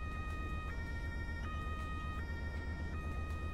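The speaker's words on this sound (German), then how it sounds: "Wie hört sich das Hörnchen an?" Car horn in the video game Roblox, sounding as a steady two-tone wail that switches pitch about every three-quarters of a second over a low background rumble.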